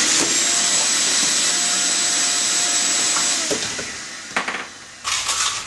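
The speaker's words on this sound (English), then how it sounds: "keep a fairly clean work surface by using a shop vac" A shop vac cleans an acrylic-working surface with a loud, steady whooshing roar that drops off near the end, followed by a few short scraping and knocking handling sounds.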